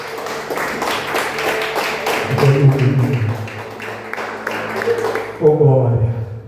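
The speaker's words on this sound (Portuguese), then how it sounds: "Sempre aplaudindo a Jesus." A church congregation applauding in a rhythmic series of sharp, fairly close claps, joined by a speaking voice over part of the clapping.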